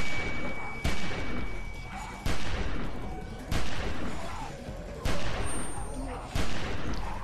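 Heavy gunshots ring out in The Walking Dead video game, six loud, evenly spaced blasts roughly a second apart, each followed by a decaying echo, with a voice speaking between them.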